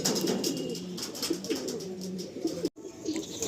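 Pigeons in a loft coo softly and continuously, overlapping low warbling calls close by, with a brief break near the end before the cooing resumes.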